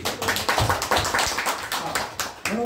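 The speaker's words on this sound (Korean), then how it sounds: "박수 한번 치세요" Audience clapping during a sales lecture, a run of sharp, fairly close claps in an uneven rhythm without speech.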